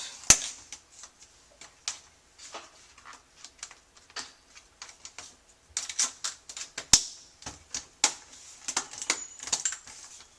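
Plastic parts of a Dell XPS laptop are twisted and snapped back into place during a slot-loading CD-ROM drive replacement, producing a series of sharp, close clicks and snaps at irregular intervals, some louder, over a quiet background.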